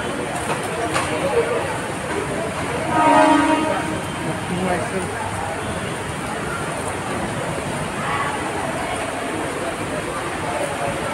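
Train passing through Dombivli station with a horn blast near the start, rail rumble and crowd noise from the busy platform throughout, and voices talking in the background.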